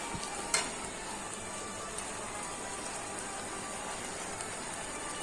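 Meat sizzling in a pan with cumin, coriander, salt and meat masala, a steady faint hiss of frying with a few small pops and stirring clicks.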